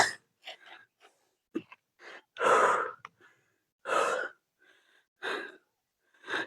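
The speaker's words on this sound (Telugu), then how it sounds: "ఇంత దూరం వచ్చేసరికి" Heavy, irregular breaths of exhaustion after walking a long way outdoors near a temple, close-up gasps and puffs separated by short pauses.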